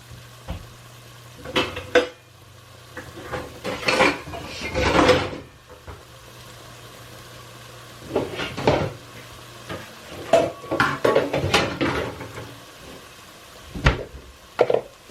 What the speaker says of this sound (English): I was thinking if I put it over here and I sauteed from the bottom of this pan